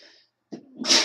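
A single close sneeze, a sharp breath-in followed by a bright, noisy burst, with a short quiet gap before it.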